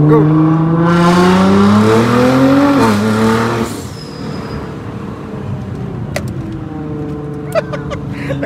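Car engine revving hard at a car meet, a loud roaring note that climbs in pitch and then drops sharply, followed by a lower idle rumble with clicks and voices around.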